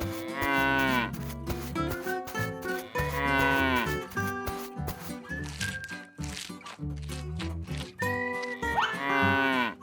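Cartoon cows moo in long, loud, drawn-out calls, several in sequence with short gaps, backed by light animated sound effects and no speech.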